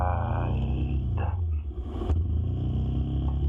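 A motorcycle engine as the rider sets off on a city road: a close, heavy low rumble that holds steady and swells slightly, with no talk.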